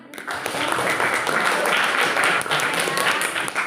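A class applauding a student group, a continuous crackle of many hands clapping at a fairly loud level from start to finish, with some voices mixed in.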